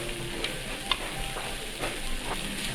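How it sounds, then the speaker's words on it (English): Okonomiyaki ingredients are stir-fried on a restaurant griddle, giving a quiet, steady sizzle with a few light scraping clicks from a spatula. "Stir fry for a while."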